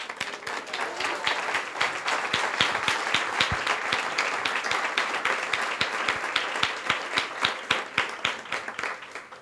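Sustained applause from a church congregation during a sermon, many hands clapping steadily for several seconds with a few sharper claps standing out.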